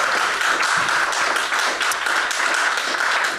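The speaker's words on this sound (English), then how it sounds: "Round of applause, everybody!" Audience applause fills a theatre during a live comedy show at the Newtown Theatre, a dense, steady wash of many hands clapping at full volume throughout, with no speech over it.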